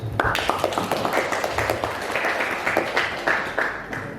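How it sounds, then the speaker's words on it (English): An audience at a youth jamboree speech contest claps after an English speech, with sharp, uneven hand claps close together, loud and continuous, and no talking over them. "Give applause."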